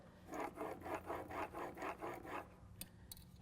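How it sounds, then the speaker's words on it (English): A blade is drawn back and forth across a sharpening surface to back off the burr: about eight even, rhythmic rasping strokes up close, then quiet. "now I'm going to back off the burr or that wire edge, and I'll go back and forth a couple of times"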